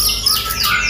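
A white-rumped shama (murai batu) songbird calls in bright, continuous high chirps and warbling tweets, fairly close and loud, over a steady low background hum with no talking.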